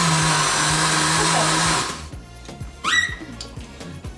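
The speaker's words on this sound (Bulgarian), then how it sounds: "Първо ще миксираме тази смес, за да може да стане като брашно" A blender grinds oats into flour with a loud, steady broadband roar for about two seconds, then stops, leaving quieter clatter and a short whistling sweep near the end.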